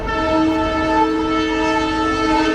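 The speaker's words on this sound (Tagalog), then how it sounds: "What's that? Train?" Train passing with a loud, sustained multi-tone horn blaring close by, steady throughout with rumbling underneath.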